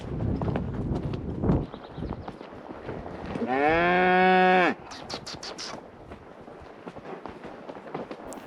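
Cattle lowing during a mountain cattle drive, one loud, drawn-out moo close by rising out of a busy outdoor background of hoof clops and rustling, with fainter activity continuing after it.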